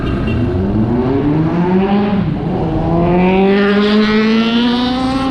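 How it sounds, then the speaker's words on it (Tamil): A loud motorcycle exhaust roars as the bike approaches and passes close by near Negombo beach, Sri Lanka, its pitch rising and falling, with a brief shift midway. "செம்ம பைக் ஒன்று வருதுங்க"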